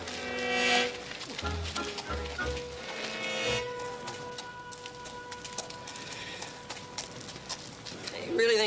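Horse hooves clip-clop in a few uneven thuds on the ground, heard under a voice and a music score in a Western drama scene before a race.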